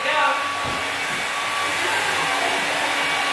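A hair dryer running steadily at home, a loud, constant whooshing blower with a faint whine, filling the whole stretch without a break.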